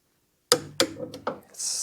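A torque wrench tightens the battery terminals on an NHX-10 hybrid inverter: three or four sharp, close clicks follow a silent start, then a soft steady hiss.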